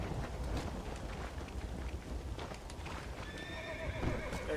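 A horse in Red Dead Redemption gallops with steady clip-clop hoofbeats, then gives a whinnying neigh near the end, all fairly quiet throughout.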